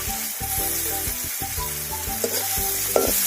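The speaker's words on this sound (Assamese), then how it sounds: "এতিয়া মই দি দিম ফ্ৰাই কৰা মাছ" Fried fish sizzles in a pan over a traditional village hearth, a steady hiss of hot oil joined by scrapes and knocks of stirring.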